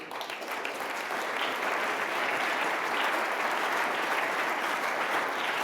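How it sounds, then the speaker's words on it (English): Dense, steady applause from a large audience at the Munich Security Conference for two speakers, a continuous wash of clapping holding evenly at moderate loudness throughout. "Let me propose that we offer a round of applause to our two speakers."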